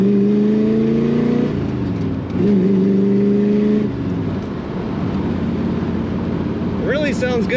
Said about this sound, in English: Really sounds good when you get on the throttle of this car.